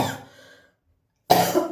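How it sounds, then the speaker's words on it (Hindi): A woman coughs hard at close range, a short burst that cuts off into near silence before a second loud, raspy cough bursts in. "मुझे खांसी बहुत हो गई"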